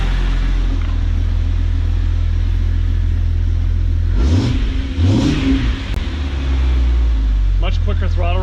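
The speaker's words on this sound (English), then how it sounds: "you can hear the sucking from under the cowl" A truck engine with a Spectre cowl intake revs twice, close and loud, with intake sucking rising over a steady idle rumble; a voice talks briefly near the end.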